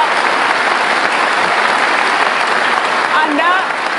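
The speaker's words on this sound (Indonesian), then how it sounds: "Oke, kita kasih tepuk tangan" An audience applauds at a political talk event, a loud, dense, continuous roar of clapping that holds steady for several seconds, with a voice briefly audible near the end.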